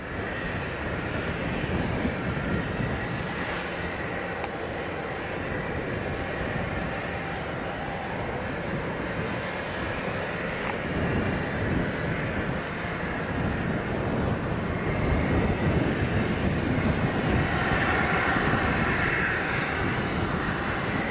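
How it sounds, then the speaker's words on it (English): A Phenom business jet backtracks the runway at Leeds Bradford Airport, its steady engine roar loud and continuous throughout with no break, heard from a distance across the airfield. "We should get another glimpse of this Phenom once he backtracks the runway."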